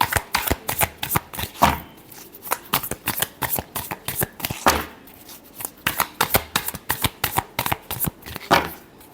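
Tarot cards being shuffled by hand, a rapid run of crisp riffling bursts and soft slaps repeating unevenly throughout, close and clear with no talking.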